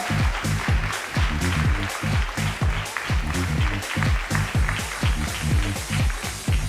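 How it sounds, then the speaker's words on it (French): An audience at a fashion show in Limoges claps in a steady, dense round of applause, near and sustained with rhythmic group clapping and no speech on top. "je vais vous demander une nouvelle fois de bien vouloir les applaudir, s'il vous plaît. Très très fort."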